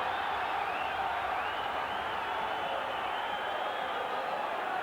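Blackburn Rovers home football crowd roaring during a match against Swindon Town, a steady, dense wall of massed voices sustained throughout without letup.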